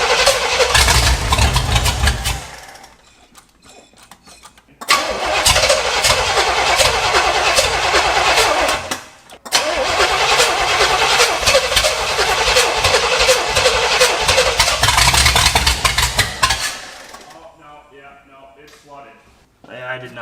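An abandoned Pontiac engine with a rebuilt Quadrajet carburetor cranks over loudly and close, two long grinding starter runs separated by pauses, each ending abruptly without catching, followed by quieter background sounds.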